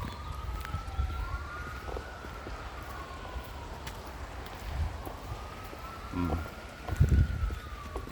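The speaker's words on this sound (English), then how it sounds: "that's a slow-moving ambulance" An ambulance siren wails in slow rising and falling sweeps as it moves along at a distance, faint over outdoor street rumble and a few nearby footsteps and knocks, with no talking.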